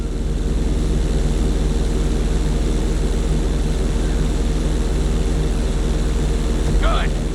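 A propeller airplane engine drones loud and continuous as the plane flies in the video game Grand Theft Auto 5, with a short voice-like blip near the end.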